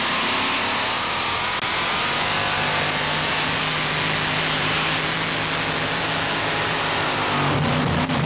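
A super modified two-wheel-drive pulling truck named Rowdy at a truck pull in Hamburg, New York, its engine a loud, harsh, sustained roar that swells and rasps throughout and dips briefly near the end.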